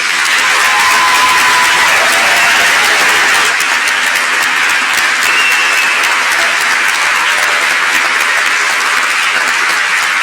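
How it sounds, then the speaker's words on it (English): Graduation ceremony audience at the University of Reading giving a long, loud round of applause, dense steady clapping filling the hall without a break and no speech over it. "let's give all of our graduates today one huge round of applause"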